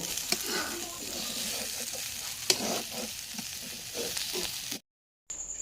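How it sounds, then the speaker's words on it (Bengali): Vegetables fry in a pan while a metal spatula stirs them, producing a close, continuous sizzle broken by scraping strokes, then a brief silent cut before the sizzling resumes. "এই যে খুন্তি দিয়ে নাড়া হচ্ছে"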